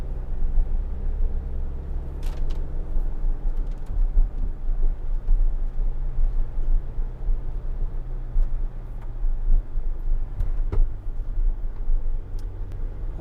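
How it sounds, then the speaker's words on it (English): A four-cylinder Sprinter van climbs through mountains, its engine a steady low drone under continuous road rumble, heard from inside the cabin. "I love this little four-cylinder Sprinter because it just so peppy as we're going up through the mountains here"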